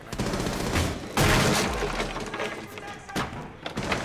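Loud, close game gunfire in Rainbow Six Siege blasts through a wall, a rattling burst of shots with heavy impact thuds and splintering debris, then a second shorter burst.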